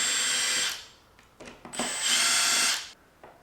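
A power tool, likely a drill or driver, runs in two bursts, lightly bolting an oil pump onto a 5.3L LS engine block during a rebuild, with short mechanical clicks between.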